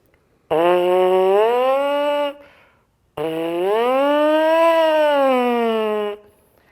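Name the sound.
lips buzzing in brass mouthpiece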